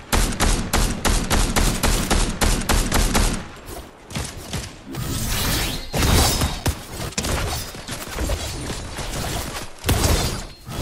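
Loud, rapid gunshots crack in quick regular bursts during a Fortnite fight, followed by shattering and mechanical clatter and more scattered shots, close and forceful with almost no talk.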